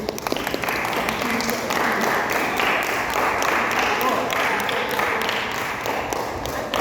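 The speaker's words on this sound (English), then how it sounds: "Let's give him a round of applause" Crowd applause for a guest speaker at a youth football talk, dense steady clapping from a group sustained for about seven seconds with some voices mixed in.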